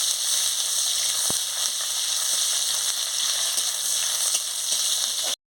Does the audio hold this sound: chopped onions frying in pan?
yes